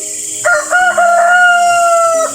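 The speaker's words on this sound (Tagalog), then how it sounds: "kung naririnig mo ay nagtitilaok na po yung manok" A rooster crows once, loud and close, a long drawn-out call lasting about two seconds.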